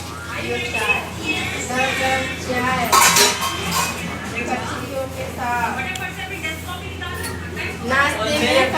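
Steel utensils and dishes clink and clatter as they are set down for washing after tea-making, continuous close handling under ongoing talk.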